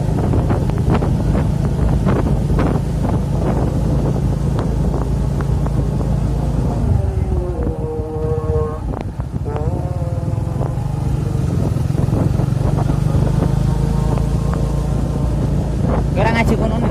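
A Mega Pro motorcycle rides through the town of Pati, its engine drone steady beneath heavy wind buffeting, with riders talking over the noise.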